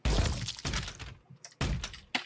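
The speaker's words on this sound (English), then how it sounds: "Giant blood explosion." Giant blood explosion in the video game Streets of Rogue comes through as loud, repeated shattering, splattering bursts with short gaps between them, heard close and free of talk.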